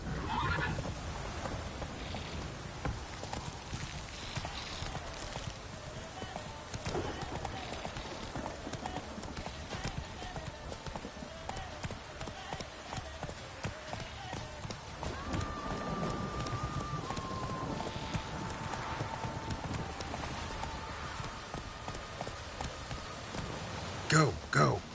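Roach the horse in The Witcher 3 gallops steadily with rapid, even hoofbeats under falling rain, breaking into whinnies and neighs along the way, while a voice talks and game music plays faintly underneath.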